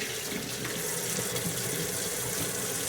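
Running tap water splashes steadily over a bar of cold process soap being rinsed in a sink, a close, continuous hiss and spatter with no talking.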